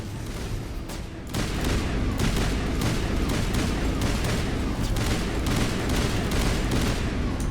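Sustained assault rifle fire in Mass Effect Legendary Edition, a dense run of rapid, loud shots beginning after a brief quieter lead-in and continuing steadily to the end, with no talking.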